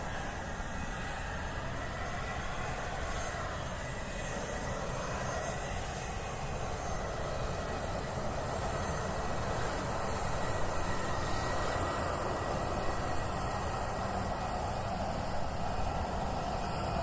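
Military jet aircraft taxiing on a Hawaii airfield during a fighter exercise, a steady broadband engine roar and whine held at constant loudness throughout, moderately distant, with no talk.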